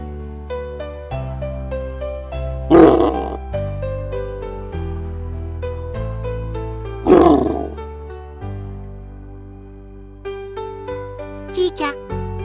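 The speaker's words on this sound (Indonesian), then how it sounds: "Beruang." A bear lets out two loud, rough roars several seconds apart over cheerful children's background music, with a voice speaking nearby.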